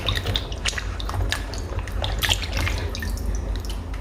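Grapes and other fruit being washed by hand in a bowl of salted water, with close splashing, trickling and dripping throughout and no talk.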